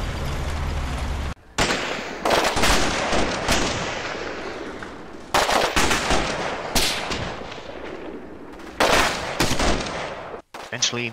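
Machine gun fire in a wargame fills the clip as loud, dense, sustained bursts of automatic gunfire mixed with sharp louder blasts and brief gaps, heard close and without talk.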